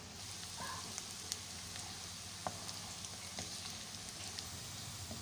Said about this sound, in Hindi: हम अभी एक पैन में मैंने तेल गर्म कर लिया है, इसमें मैं ये प्याज डालूँगी।